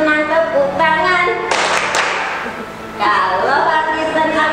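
A voice sings, then a short burst of hand clapping, then the singing resumes.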